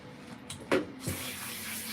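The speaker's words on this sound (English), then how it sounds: "I usually will spray a little bit afterwards." A spray bottle mists a vinegar rinse onto a Persian cat's coat during a bath, giving a few short hissing spritzes followed by a steadier spray hiss, close and fairly quiet.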